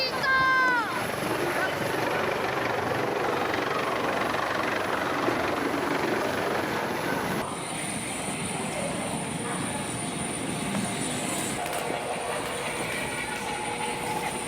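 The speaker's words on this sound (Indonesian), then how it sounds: "Beginilah aksi heroik helikopter Badan Nasional Penanggulangan Bencana saat landing di puncak gunung" Rescue helicopter of Indonesia's national disaster management agency landing on a mountain peak in a forested area, heard as a loud, steady rotor and engine roar that runs the whole time with a slight shift midway.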